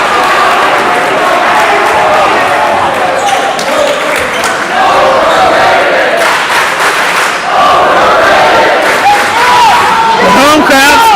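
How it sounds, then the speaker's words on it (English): A home crowd at a high school basketball game cheers steadily and loudly throughout, with a commentator talking over the constant roar and a few shouts rising near the end. "The home crowd still in it."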